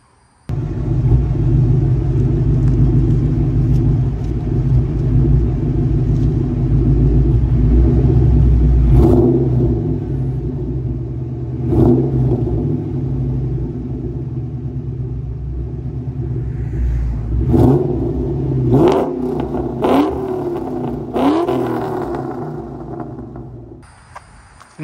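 A 2001 Ford Mustang GT with a 4.6 liter two-valve V8 rumbles steadily through its exhaust, with several throttle blips and revs rising over a deep, loud idle, alone with no talk.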